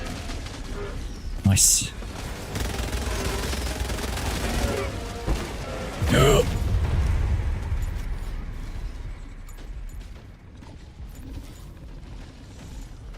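A grenade goes off in the video game Helldivers 2 as two sharp explosive bursts with rumbling tails, surrounded by ongoing battle noise, while a player briefly speaks.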